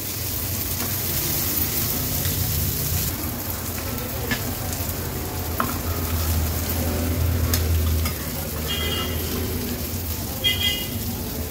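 Fish fries in hot oil in a pan, giving a loud continuous crackling sizzle that lasts throughout, with a few clinks of utensils and a voice talking over it.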